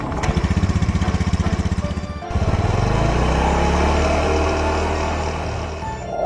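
A motorcycle engine idles with a steady rapid chugging pulse, then after a brief dip revs into a smoother continuous drone as the bike rides off, close and loud.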